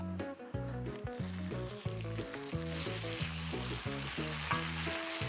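Sliced onion frying in a pan for a fried-egg dish, a steady sizzle that grows fuller and louder partway through, laid under prominent melodic music.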